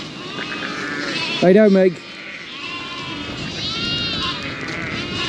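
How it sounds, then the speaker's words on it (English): A lamb on a farm gives one loud, close bleat partway through while someone talks over a steady outdoor background. "So a few more lambs, these lambs are hard to handle."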